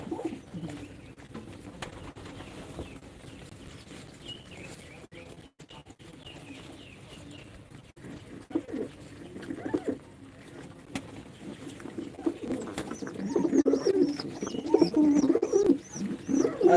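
Rajshahi Giribaz and racing pigeons coo in low, throaty pulses, faint at first and swelling louder and busier toward the end, with a few higher chirps mixed in.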